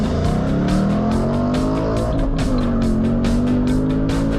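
A Ford Mustang Mach 1 engine roars loud and close as the car drives hard on a race track, its pitch climbing and dipping through gear changes, with no talk.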